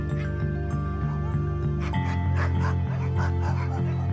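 Sled dogs at a mountain mushing site in the Roussillon give a rapid run of repeated barks and yips over a steady low hum, close and fairly loud throughout.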